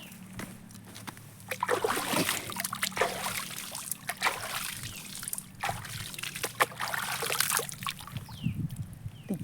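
Cold water trickles and splashes as someone washes their face, with uneven bursts of pouring and dribbling that run steadily through the whole stretch at moderate loudness.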